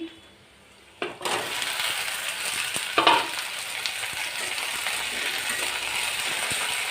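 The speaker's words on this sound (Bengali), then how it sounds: "তো এই যে পেঁয়াজ ভাজা হয়ে গেছে, এখন দিয়ে দিব এই যে কেটে রাখা ভেন্ডি" Sliced okra goes into a pan of fried onions, starting a loud, steady sizzle after a brief quiet moment, with stirring scrapes and clatters running through it.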